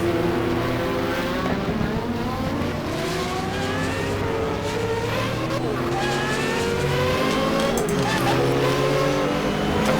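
Race cars roar around Daytona in the GTR2 video game during a 1995 24-hour race, engines droning steadily and loud with shifting pitch as a pack runs together, faint tire squeal at times, while a commentator talks over it.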